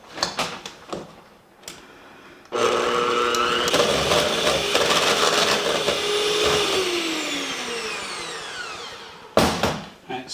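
An electric mixer creams butter and cream cheese for cinnamon roll icing, whirring loudly and steadily for several seconds, its pitch sliding downward as it slows, with clunks and bumps of the bowl before and after.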